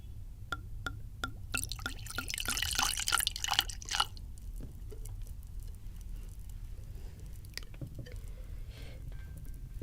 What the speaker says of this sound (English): Let's not pour too much this time, Raven.